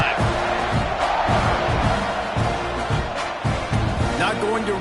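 A roaring stadium crowd in the College Football 25 video game, a dense continuous cheer filling the clip under play-by-play commentary.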